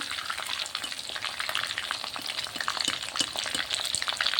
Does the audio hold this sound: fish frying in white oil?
yes